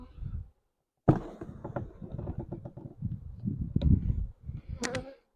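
Honey bees buzz in a five-frame nuc hive box during installation, a close, uneven hum broken by knocks and handling noises, with no talking.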